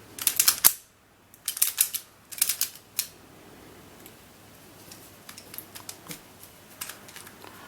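Plastic twisty puzzle cube with a clicking mechanism being turned by hand, giving sharp clustered clicks in bursts near the start, then sparser, quieter clicks and small rattles.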